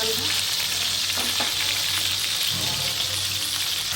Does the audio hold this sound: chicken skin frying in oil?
yes